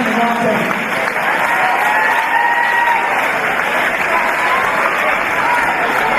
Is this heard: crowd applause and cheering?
yes